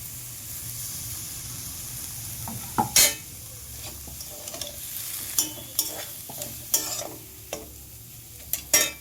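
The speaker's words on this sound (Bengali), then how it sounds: "চিংড়ি মাছটা দিয়ে একটু ভালো করে নাড়াচাড়া করে ভেজে নিয়েছি" Mashed prawns stirred and fried in a pan, a steady close sizzle with sharp scraping spoon strokes recurring every second or so, no voices.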